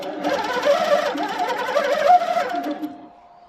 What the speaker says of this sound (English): I'm going to sew some continuous line designs within my Wiggle Wave area.